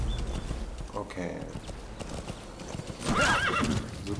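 Hooves clip-clop in a quick rhythm in the video game Metal Gear Solid V: The Phantom Pain, Afghanistan setting, then a horse lets out a loud, wavering neigh near the end.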